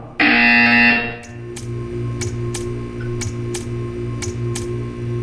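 Buzzer in the Portal 2 video game: a loud, bright electronic tone bursts for about a second, then a series of sharp evenly spaced ticks repeats over a steady low hum, with no voices.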